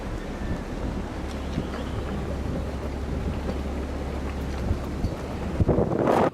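Heavy wind buffets the microphone while sailing a boat on open water, a steady loud roar with low rumble throughout, building to stronger gusts near the end.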